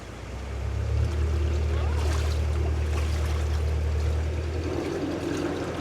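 A narrowboat engine runs at high revs inside a lock, holding the boat back against the flow. It makes a loud, steady low drone with churning water noise over it, continuous for the whole stretch.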